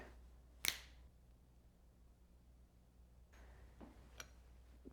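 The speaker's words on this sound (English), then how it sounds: "now I'll snap my fingers" One sharp, close finger snap stands out in a quiet kitchen, followed later by a couple of fainter clicks and small knocks against low background hum.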